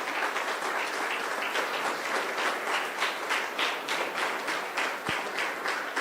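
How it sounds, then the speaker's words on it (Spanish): A church congregation at a Sunday service claps steadily, many hands beating in a rough shared rhythm, moderately loud and even throughout with no voices on top. "¿Le puedes dar un aplauso fuerte al Señor por eso?"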